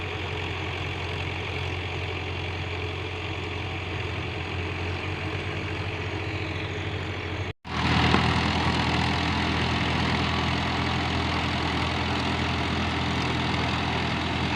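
A tractor engine idles steadily and loudly nearby, a constant low rumble that briefly cuts out for a moment midway, then resumes at the same level with no talking.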